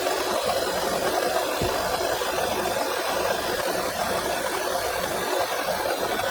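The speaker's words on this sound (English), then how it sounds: "Pump bearing failed and rubbing against the supercharger clutch disc. Symptoms: whining noise, engine no power." A Volkswagen 1.4 TSI engine, both supercharged and turbocharged, running with a mechanically faulty coolant pump whose failed bearing rubs against the supercharger clutch disc. It gives a steady, loud mechanical drone with a rattly edge, close up and with no voices.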